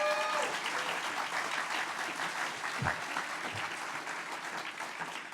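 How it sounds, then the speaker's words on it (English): Audience applause for dignitaries at a city's State of the City event, a steady wash of many hands clapping that holds moderately loud throughout and eases slightly toward the end, with no talk over it. "Let's give it a round of applause for all of our dignitaries."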